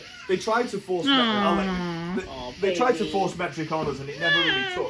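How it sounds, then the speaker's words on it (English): A house cat meows in a drawn-out, rising and falling call, then gives shorter meows, close by and mixed under people talking. "That is a cat."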